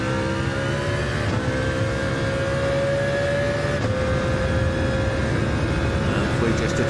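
A Mercedes CLK LM race car in Gran Turismo 7 at Fuji Speedway drones at steady high revs with a sustained engine whine that shifts pitch through gear changes. A commentator talks over it.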